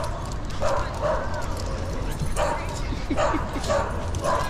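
A friendly husky gives a few short yips and barking sounds in bursts, close by, while people chat over a steady background noise.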